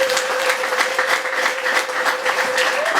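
A church congregation claps together during a sermon, producing a dense, steady wall of applause that holds at an even level for about three seconds, with a faint sustained tone running underneath.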